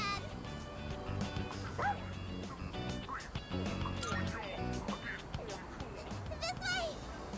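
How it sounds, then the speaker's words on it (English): A dog barking in the video game Persona 3 Reload, angry after its tail was stepped on, as it chases a character: repeated loud yapping barks over game music and busy in-game sound. "He accidentally stepped on a doggy's tail. And now he won't stop chasing him."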